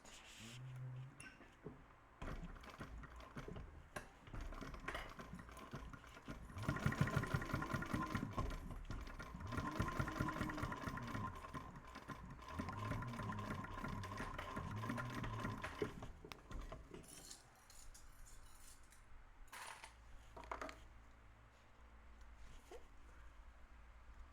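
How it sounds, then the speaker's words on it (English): A sewing machine basting fabric pieces closed while making a small bowler bag, its needle motor running in bursts with a steady mechanical whir, close and moderately loud, starting and stopping over about twenty seconds. "I'm going to baste that closed"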